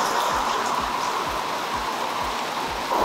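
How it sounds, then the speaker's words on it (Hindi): Heavy rain pours down in a steady, dense hiss that stays constant throughout with no voices. "ये और गर्मी बढ़ाने वाली बारिश है"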